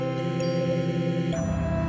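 Older, more retro chase theme for the Specimen 4 monster in Spooky's Jump Scare Mansion: a short burst of steady, droning chiptune-like music that changes note once near the end.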